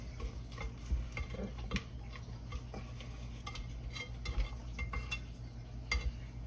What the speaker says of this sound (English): Scrape this down a little.